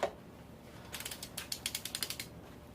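A ratchet wrench tightens engine bolts during a piston ring job: a quick, even run of close metallic clicks in a short burst, with nothing else in the quiet around it.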